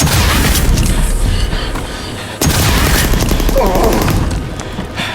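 Gunfire and heavy booming blasts in a video game, dense and loud throughout with a sharp burst midway, while a voice briefly exclaims over the action.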